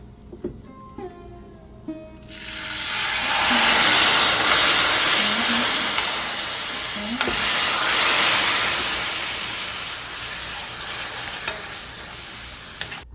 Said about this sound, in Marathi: आता याच्यामध्ये आपण घालूया चिंचेचा कोळ.